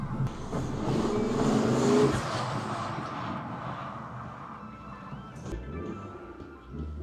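Ford Focus ST engine running after a misfire repair, a rumbling drone that builds in the first two seconds and then settles to a quieter, uneven idle, heard close without talk.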